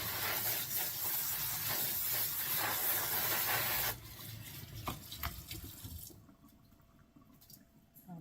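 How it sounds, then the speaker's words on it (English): Running water hisses steadily from a tap as rice is rinsed in a colander, loud and continuous for about four seconds, then drops to quieter splashing and dripping that fades toward the end. "I'm going to put it in my colander and rinse it off."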